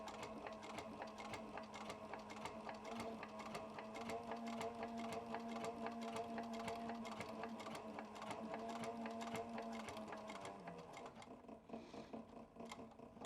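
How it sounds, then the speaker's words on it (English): Sewing machine stitching a leather duffel bag strap, a fast, steady mechanical rattle of the needle running continuously before slowing slightly near the end, close and alone. "I'm going to sew it all the way down to the very, very bottom of this strap."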